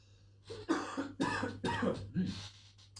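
A person coughs several times in a row, close and fairly loud, with short rough bursts separated by brief pauses.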